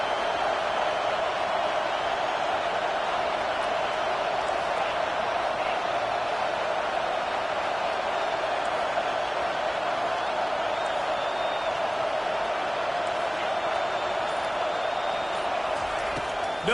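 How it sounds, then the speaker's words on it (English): A football stadium crowd during a game roars continuously, a dense, loud wall of sound that holds steady from start to finish without breaks. "listen to the roar of this crowd"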